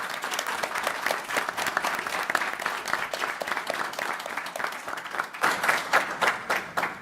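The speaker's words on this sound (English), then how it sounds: "Let's give him a big round of applause for a job well done." An audience at a national spelling bee championship applauds steadily for a student contestant, a dense patter of many hands clapping at moderate distance with no voices over it.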